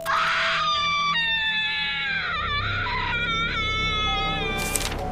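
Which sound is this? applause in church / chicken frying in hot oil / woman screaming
woman screaming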